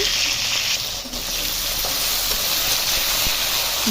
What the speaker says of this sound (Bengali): কড়াইয়ের তেলে দিয়ে দেব শিমগুলি